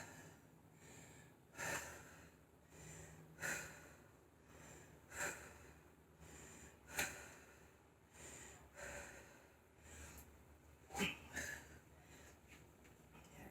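Heavy, rhythmic breathing while resting between rounds of interval conditioning training, with sharp snorting exhales roughly every two seconds, close and fairly quiet, no talking.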